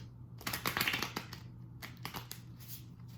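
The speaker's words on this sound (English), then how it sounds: "we're gonna start shuffling the tarot." Tarot cards are shuffled up close in quiet bursts of soft riffling and flicking, a few quick clusters of papery clicks with short pauses between them and no talking.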